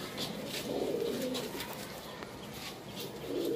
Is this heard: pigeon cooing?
yes